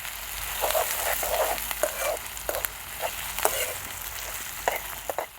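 Onions, ginger and chillies frying in oil in a pan for a Rajasthani papad curry, a steady close sizzle broken by frequent sharp crackles and stirring scrapes, with no voices.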